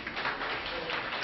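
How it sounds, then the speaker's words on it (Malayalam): An audience claps steadily and fairly loudly throughout for prize winners of an elocution and essay-writing competition, a continuous wash of hands with no voices standing out. "എല്ലാവർക്കും ഒരു കൈയടി കൊടുക്കണം."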